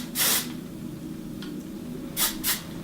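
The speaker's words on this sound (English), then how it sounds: "Add a little hairspray." Hairspray is sprayed onto a girl's braided hairstyle with a sparkly headband: a short hissing burst, a faint brief puff, then two quick bursts close together near the end, all close by with no talking.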